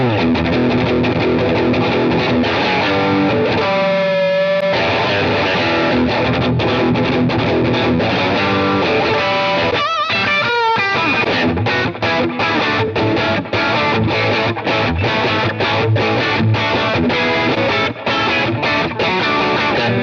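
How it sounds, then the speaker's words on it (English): A Telecaster electric guitar with Tele pickups played through overdrive fills the space with dense, driven chords and riffs that stay loud and sustained throughout, with only a couple of short choked breaks. "Sounds really good with the overdrive."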